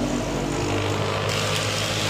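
A Honda Click 125 scooter engine idles close by with a steady, unbroken hum and no talk over it.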